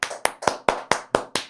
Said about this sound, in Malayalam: അപ്പോൾ ഒരു ക്ലാപ്പ് കൊടുത്ത് എല്ലാവർക്കും അങ്ങോട്ടും ഇങ്ങോട്ടും.